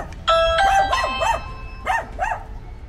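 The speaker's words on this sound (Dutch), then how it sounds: "je drukt even op deze bel" A doorbell at a camper site's registration desk in Schijndel rings with a clear ding-dong, followed by a dog barking and howling nearby in short bursts.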